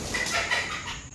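A young chick in a home brooder gives short, close clucking and peeping calls in a brief, continuous burst, with no talking.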